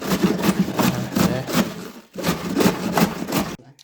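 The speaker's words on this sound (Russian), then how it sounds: "Режем капустный качан пополам" Kitchen knife cutting through a whole head of cabbage in half for fermenting, heard as a rapid series of crisp, rasping crunches in two long bursts close by, ending in a brief pause.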